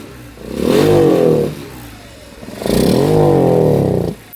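A Shineray motorcycle engine with no air filter revs hard twice, each burst rising and falling with an uneven, sputtering misfire, loud and close with a low idle between.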